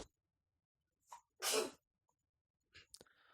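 A single person sneezes during a lecture, a short breathy intake followed by one loud, sharp sneeze burst close to the microphone, with a brief quiet sound after it in an otherwise silent room.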